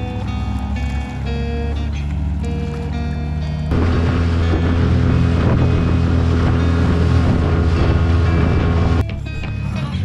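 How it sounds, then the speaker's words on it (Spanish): Small outboard motorboat engine running steadily and loudly on a lake aboard a restored small boat, with a sustained drone and wind across the microphone that grows denser midway. "va a calar el motor con el solito"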